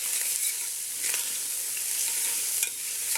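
Onions frying in a pan for a ragu sauce and being stirred, a continuous close sizzle with occasional scraping strokes, no voices.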